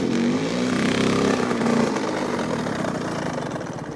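A Suzuki RM85 dirt bike engine roars loudly during a wheelie, holding a steady high rev for the first couple of seconds before easing back slightly as the bike is brought down.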